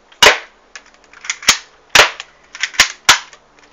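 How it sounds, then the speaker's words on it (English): Mini Defender toy gun firing six sharp, loud cracking shots in an uneven rhythm, each followed by brief rattling clicks of the mechanism, with no talking. "It looks like it's pretty powerful for a little light gun"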